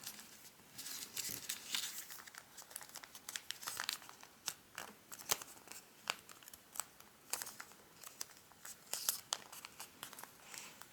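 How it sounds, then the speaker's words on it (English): Origami paper being folded in half for a Christmas Santa's boot model, giving close, repeated crinkling and crisp creasing rustles that come in uneven bursts, with no voices. "grab this flap and fold it in half"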